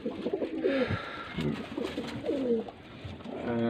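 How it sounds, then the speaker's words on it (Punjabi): Racing pigeons coo close by in soft, repeated throaty calls that rise and fall, with faint background murmur. "ਇਸ ਕਬੂਤਰੀ ਦੇ ਨਾਲ ਇਸ ਕਬੂਤਰ ਦਾ ਵੀ ਬੱਚਾ ਬਹੁਤ ਉੱਡਦਾ।"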